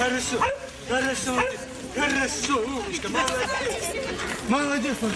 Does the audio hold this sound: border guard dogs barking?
yes